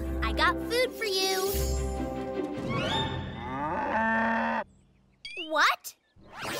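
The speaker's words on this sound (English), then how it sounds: "How do you moo?" A loud, drawn-out cow moo with rising and falling pitch, followed by shorter bovine calls and a brief squeal near the end.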